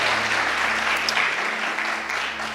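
A church congregation claps together in steady, dense applause that fills the space, loud and continuous throughout with no voices standing out.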